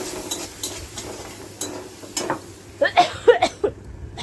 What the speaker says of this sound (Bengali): এগুলি ভালোভাবে ভেজে নিচ্ছি।